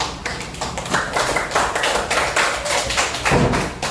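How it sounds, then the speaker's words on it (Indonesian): A classroom of students claps steadily for a few seconds, a dense, continuous applause from many hands in a room. "Tepuk tangan buat kelompok 1"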